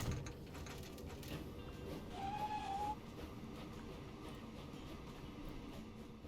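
A small train runs in the Transport Fever video game, a steady rumbling rail noise with faint clickety-clack that holds at an even level throughout, with no talk over it.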